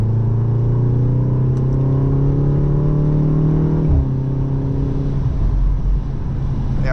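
A 2025 BMW M235 Gran Coupe with a 2-litre turbo engine pulls hard through the mid-range, its engine note rising steadily as it accelerates with a loud interior rumble, then a brief gear change before the engine climbs again.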